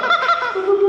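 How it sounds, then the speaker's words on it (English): A chicken lets out a single loud, close, nasal squawk lasting under a second, from a flock kept at a roadside stop on a motorcycle trip abroad. "now we got a bunch of chickens"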